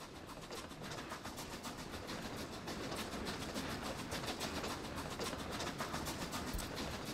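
Oil train moving in Workers & Resources: Soviet Republic, a faint, steady rolling rumble with a fast, even clicking rhythm of wheels on track, continuous and quiet throughout, with no talking.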